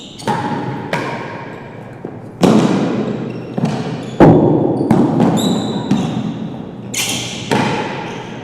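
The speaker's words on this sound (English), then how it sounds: "Now the high serve rolling around the back penthouse." A real tennis ball in an indoor court, struck on a high serve and rolling around the back penthouse roof, gives a series of sharp thuds and bounces that each ring out and fade, with a few tonal pings between them.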